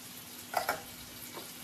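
Chopped onions hit hot oil for a Malvani fish curry tempering in village cooking, giving a faint, brief crackling sizzle with a couple of sharp pops near the middle.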